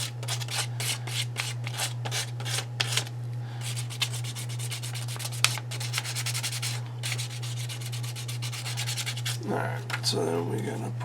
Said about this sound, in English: This is like sanding film